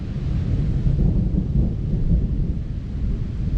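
Thunder from an approaching storm over fields at a mountain home, a continuous deep rolling rumble that stays loud and heavy throughout, with no voices.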